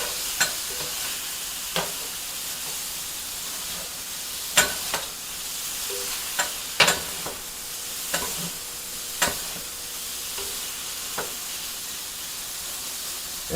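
Beef sears on a Vevor 22-inch flat top griddle, a steady bright sizzling hiss punctuated by sharp spatula scrapes and taps at irregular intervals.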